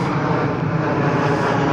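A British Airways airliner flying over at Heathrow, a loud steady engine roar filling the whole stretch, close and continuous with no talk.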